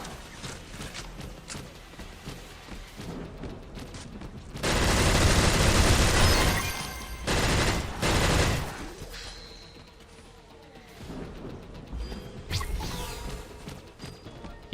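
A minigun fires rapidly in the battle royale video game Skillshot City, dense loud bursts of gunfire in the middle with lighter, scattered shots and game effects before and after.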